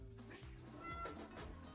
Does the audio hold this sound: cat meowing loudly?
yes